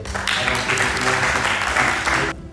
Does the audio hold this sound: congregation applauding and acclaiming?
yes